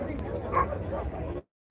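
Dogs bark and yip nearby at a dog show during the Malegaon fair livestock market, mixed with a person talking, before a brief cut to silence.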